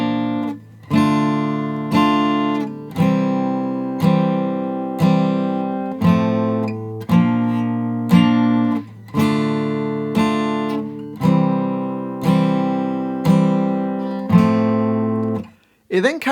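Acoustic-style guitar strumming a repeated chord sequence including F over A, about eight evenly spaced strummed hits that ring out, played alone and clearly up close with no voice.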